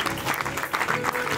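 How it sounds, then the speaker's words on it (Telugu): An audience at a ministry gathering claps steadily and loudly in warm, sustained applause throughout, with no voices on top. "శేఖర్ బాబు గారికి అలాగే మౌనికకి ఒకసారి చప్పట్లు కొడదామండి"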